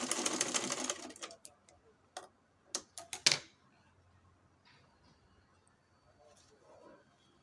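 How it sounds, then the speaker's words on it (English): A sewing machine double-stitches a pocket in fabric. A fast, dense run of stitching is followed by several short separate bursts, then quiet room tone. "That is why I'm double stitching."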